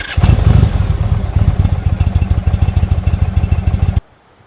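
An Indian Thunder Stroke 111 V-twin motorcycle engine runs up close and loud, a lumpy, rhythmic throbbing beat at steady revs for several seconds before cutting off abruptly.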